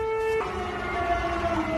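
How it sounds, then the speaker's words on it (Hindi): Air raid sirens wail continuously with rising and falling tones, loud and steady, layered over a dull background rumble with no talking, during a Russian drone incursion alert in Romania. "किस तरह से लगातार सायरन गूंज रहे हैं।"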